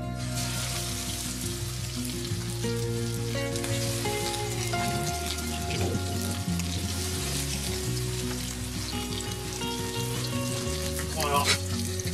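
Fish fillet for a pan-fried fish omelet sizzling steadily in a pan, a loud, dense frying crackle with faint background music underneath.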